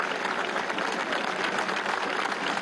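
An audience at a political rally in Sucre state clapping, a steady, even wash of applause with no break, moderately loud and heard from within the crowd.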